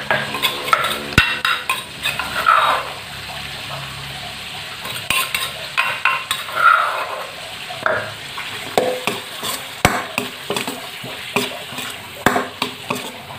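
Pork stir-fried over low heat for a southern Thai dish: a spatula scrapes and clinks repeatedly against the pan in an irregular rhythm over a soft, steady sizzle, close by and with no voices.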